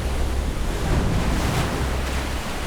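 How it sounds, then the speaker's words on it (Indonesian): Sea waves surge and roar as the sea closes over an army, a loud, continuous wash of surf with no speech over it. "Seketika laut menelan Firaun dan semua pasukannya."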